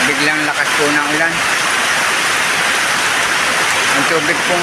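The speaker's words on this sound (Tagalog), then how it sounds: "Biglang lakas po ng ulan." Heavy rain pours down in a dense, steady hiss that fills the air, with a voice speaking briefly near the start and end.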